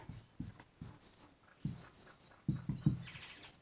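A teacher writes on a board during a Class 10 physics lesson on reflection and spherical mirrors, with a series of close, rhythmic chalk taps and scrapes and brief pauses between strokes, and no talking.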